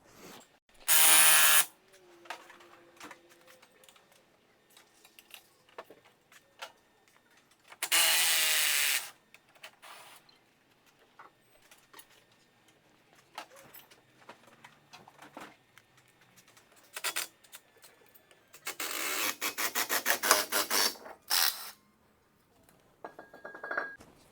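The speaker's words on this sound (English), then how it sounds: "Clayton used the little holes here that are threaded to just run a bolt in to pop this off" Bolt being run into the threaded holes of a brake rotor to pop it off during a professional pad and rotor job, heard as several separate bursts of power-tool whirring with quiet, intermittent clinks between them.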